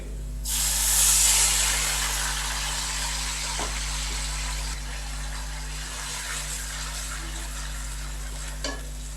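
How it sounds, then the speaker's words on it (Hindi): A loud burst of sizzling as about a cup of water hits frying onions in a hot pan, settling into a steady frying hiss with occasional clinks of a utensil. "तो अभी हम इसके अंदर पानी का तड़का लगाएंगे।"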